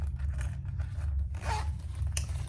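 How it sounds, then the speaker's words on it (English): A zipper pulled along the pocket of a cork wallet, a short close rasping run near the middle with a faint click after it, set against a low steady hum. "You've got a zipper pocket here."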